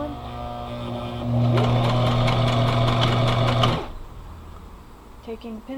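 Electric sewing machine stitching fabric pieces for a scrappy patchwork bag, a loud rapid whirring run of about two and a half seconds that stops abruptly, followed by faint handling clicks.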